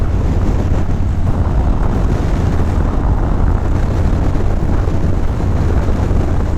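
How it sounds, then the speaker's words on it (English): Strong wind roars across a big open patch of land near a motorcycle, a constant loud low buffeting on the microphone with no pauses and no talk. "It's a bit windy outside."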